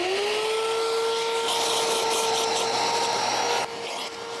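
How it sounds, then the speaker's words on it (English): A vacuum cleaner works over carpet pulled from a junkyard Honda more than 30 years old, a loud, steady motor whine running nearly the whole time before easing slightly in volume near the end. "So we're gonna go ahead and vacuum this up and hit it with the extractor one pass"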